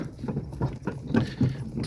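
Steady clip-clop of a draft mare's hooves pulling a cart uphill on a road, a regular trotting rhythm close by with faint vehicle rumble beneath.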